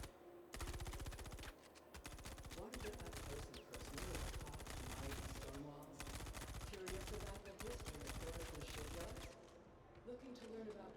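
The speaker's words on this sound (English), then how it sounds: "Like, that's so strange that they're shooting each other." Guards trading fire in a space video game, with sustained rapid automatic gunfire that runs almost unbroken in dense, loud bursts, a few brief dips, and fades near the end, with a voice talking over it.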